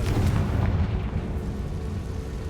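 A Confringo spell explosion in the Hogwarts Legacy video game, a loud, heavy boom that rumbles on and slowly decays over a couple of seconds.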